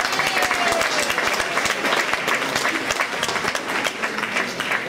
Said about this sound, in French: Je pense qu'on peut les applaudir encore.